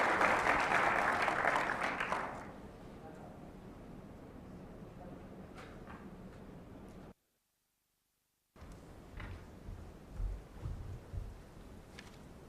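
A conference audience at the WorldSkills Kigali Africa regional event claps loudly for the panelists, a full burst of applause that quickly dies away into quiet room noise with scattered faint sounds.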